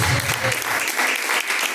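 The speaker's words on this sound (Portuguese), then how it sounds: "Glorifiquem o nome do Senhor com as palmas para Jesus" A church congregation claps together in a quick, fairly loud rhythm during a worship service, with voices faintly audible underneath.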